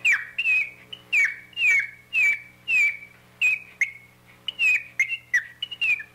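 A squirrel call whistles out a series of shrill, piercing squeals mimicking a baby squirrel in distress, repeated rapidly with short gaps.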